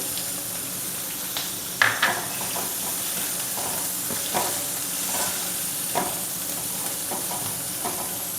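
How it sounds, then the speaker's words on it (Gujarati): Sesame seeds sizzle in hot oil in a pan for a Gujarati-style capsicum sabji, a soft continuous frying hiss with a few faint pops and clicks. "સાથે તલ નાખી દઈશું,"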